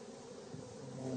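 Honey bees buzzing in an open hive, a steady dense hum of many wings, faint and continuous with no talking.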